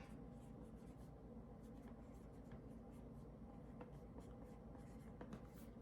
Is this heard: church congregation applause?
no